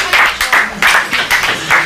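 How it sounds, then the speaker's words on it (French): An audience at a transformist cabaret show claps loudly and close by, in uneven bursts of hands that swell and dip through a short round of applause. "On l'applaudit une dernière fois."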